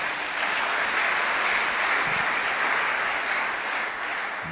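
Church congregation applauding steadily, a dense, sustained wash of clapping that fills the whole stretch without a break and without talk over it.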